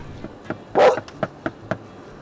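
A dog barks in a short run outdoors, several sharp yips and woofs spaced about a quarter second apart around one louder, longer bark, close by with no talk over it.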